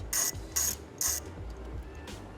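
A T25 driver ratchet clicks on the derby cover bolts of a Harley-Davidson M8 Softail, producing three close, crisp bursts of rapid pawl clicking followed by a fainter fourth.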